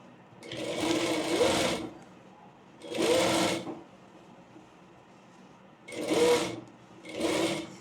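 A sewing machine stitching a layered frill frock runs in four separate bursts, each a steady whirring run of a second or so, with quiet gaps between and no talk.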